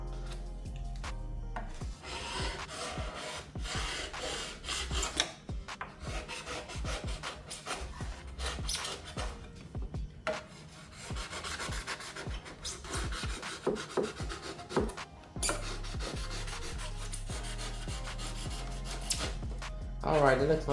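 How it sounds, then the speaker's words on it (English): A part of an RC V22 Osprey model is trimmed and bevelled with a rasping, filing action, producing continuous scraping and rubbing strokes, close and fairly quiet, with short pauses between passes. "so I'm just gonna trim this off a little bit like this. Add a slight bevel to this"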